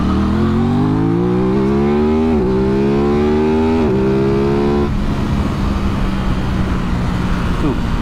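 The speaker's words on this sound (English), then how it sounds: "This little twin spins up nice and quickly and is super smooth, super lightweight" Aprilia RS660 twin-cylinder sport motorcycle engine revs up quickly through several rising pulls, close and loud, each climb cut short by a gear change, then settling into a steady drone with road and wind rush.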